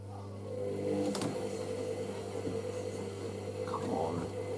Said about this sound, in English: Doesn't mess around though, doesn't sit around either, just get straight on with it. I love the really frequent wash action of this.